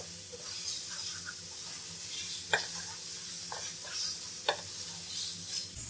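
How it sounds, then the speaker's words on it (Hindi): Fried eggs being sautéed in a spicy masala in a pan for a dhaba-style egg curry: a continuous close sizzle with a few sharp clinks from stirring, and no voices. "हम 1 मिनट अंडों को भी मसाले के अंदर भूनेंगे।"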